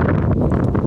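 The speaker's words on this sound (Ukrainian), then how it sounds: "Блін, вітер." Wind buffets the microphone in a loud, low rumbling roar, close and continuous for under a second.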